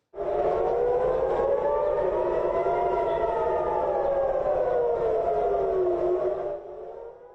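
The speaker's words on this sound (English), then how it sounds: "The sirens sounding in Israel earlier this morning" A civil defense air raid siren sounds in Israel during Iranian strikes: one loud, sustained wailing tone that slowly rises and falls, steady for several seconds before dropping away near the end, with no voices.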